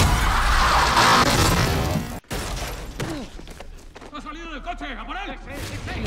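A car crash in the racing game Need For Speed The Run during a police chase, with a loud smashing impact in the first seconds, a sudden cutoff, then engine and game sounds with faint voices.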